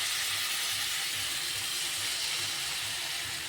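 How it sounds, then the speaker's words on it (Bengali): Water is poured into a pan of cooking potato and cauliflower, raising a steady loud sizzling hiss of steam that holds without a break. "এখন আমি একটু জল দিয়ে দিচ্ছি।"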